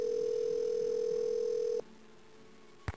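Telephone ringing in the 1998 Nancy Drew: Secrets Can Kill game, heard as a steady electronic ring tone that holds for nearly two seconds, then cuts to a quiet line hum and a click.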